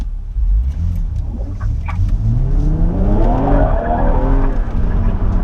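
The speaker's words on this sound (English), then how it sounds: "this thing lights up its rear wheels easily" A 2016 BMW M135i spins its rear wheels, its engine revving hard as rising tire squeal cuts in, loud and close, with engine pitch climbing steadily throughout.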